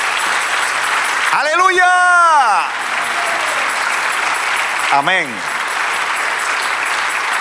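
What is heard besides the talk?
congregation applause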